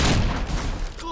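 Gunfire in a Fable III battle, a dense burst of overlapping shots under constant loud combat noise across the whole short moment, with a voice briefly audible near the end.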